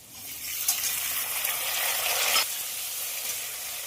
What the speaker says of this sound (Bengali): আলু ভাজা ভাজা হয়ে গেছে দিয়ে দেবো টমেটো কুচি